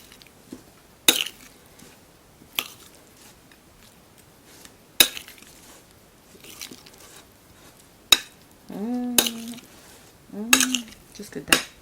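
A spoon clinks and scrapes against a bowl while salted mushrooms are tossed with oil, coming as a handful of sharp, irregular knocks spaced by quiet gaps, with a few short squeaky murmurs between them.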